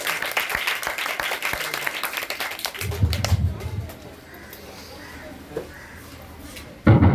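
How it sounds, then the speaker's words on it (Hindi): Applause from an audience at a school award ceremony, a steady crowd clapping that runs loud for several seconds, then thins into quieter room noise with a sharp knock at the end. "जोर से ताली बजाओ।"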